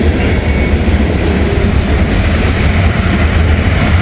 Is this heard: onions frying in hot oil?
no